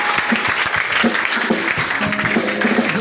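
A church congregation applauding and cheering after a prayer healing, a dense steady wash of clapping throughout with faint voices mixed in.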